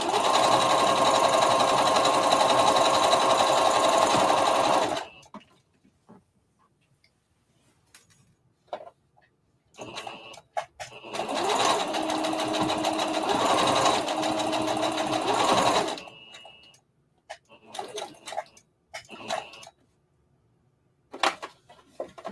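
A sewing machine stitching a circle dress runs in two long, steady bursts of rapid needle chatter, separated by quiet handling noises, close and loud.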